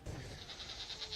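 Goats at a goat yoga class at DLT Stables in Waimanalo, a farm setting, giving faint, quiet bleats that repeat in a soft pulsing rhythm at a distance.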